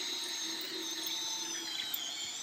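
Lumberjack 20V cordless drill boring into brick, a steady high-pitched whine with a grinding edge, close and continuous without talk.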